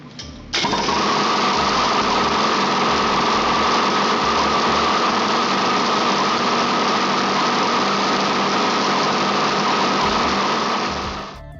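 A prototype engine starts abruptly and runs at a steady, loud, high-pitched whirring buzz for about ten seconds before winding down, alone with no talk.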